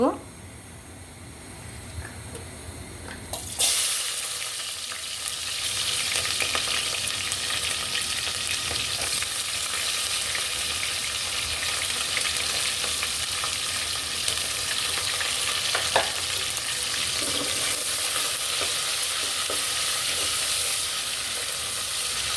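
Chopped onions hit hot oil and start frying, a sudden loud sizzle that settles into a steady crackling hiss with occasional stirring scrapes, after a short quieter moment at the start.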